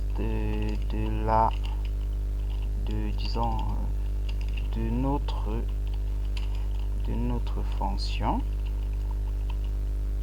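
Computer keyboard typing as test code for a Python selection sort is entered, steady clicking running beneath a voice speaking in French, with a low electrical hum throughout.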